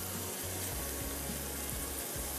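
Yogurt poured into well-roasted sizzling masala for Hyderabadi dahi bara gives a steady, loud hiss and bubbling that runs without a break, with faint low rumbles underneath and no voices.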